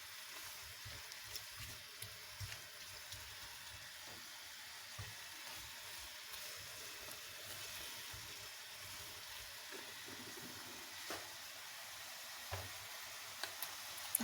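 Minced meat keema fries in a pan for lasagne, a faint, steady sizzle with small scattered ticks and stirring clicks throughout, without speech.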